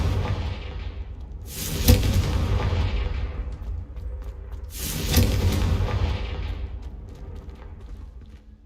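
Two Confringo spell explosions in Hogwarts Legacy burst a few seconds apart, each a loud whooshing boom that decays into a rumbling tail, over a low continuous background.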